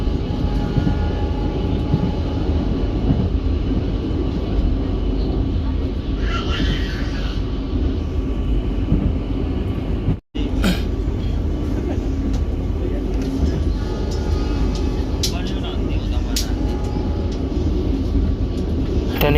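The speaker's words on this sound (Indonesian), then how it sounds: "Ini karena keretanya jalannya cepat ya Musa" A fast passenger train nearing Benowo station rumbles and rattles steadily from inside a carriage, loud and continuous, with a brief dropout near the middle.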